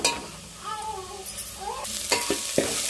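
Ginger garlic paste frying hard in a pan for a fish curry, with a loud continuous sizzle and crackle broken by quick stirring clinks and scrapes, no voices.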